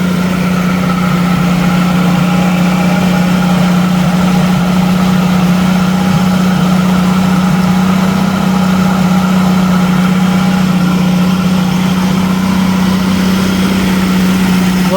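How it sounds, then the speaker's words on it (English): A 1990 Jeep YJ with a 4.2L engine idles steadily after getting a new fuel pump, a loud even low hum that stays constant throughout with no talk. "New fuel pump and now she runs."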